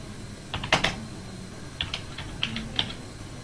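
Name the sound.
typing full name on a computer keyboard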